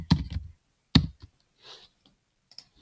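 A few sharp computer mouse clicks, close and isolated, at the start, near one second and near two and a half seconds, with a soft rustle between them and a person speaking over the first two.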